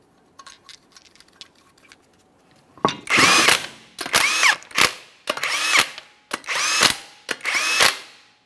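A power tool runs 21mm lug nuts onto the wheel of a 2014-2018 Mazda 3 2.0L, giving six short loud whirring bursts in a steady rhythm after a quiet start, with no talking.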